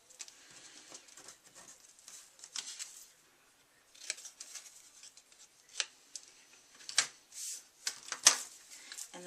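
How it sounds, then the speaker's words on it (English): Scissors trim small points off a paper label for a handmade card. The snips and rustles are soft and close, coming in irregular bursts with brief pauses between them. "I'm just going to cut these little points off here."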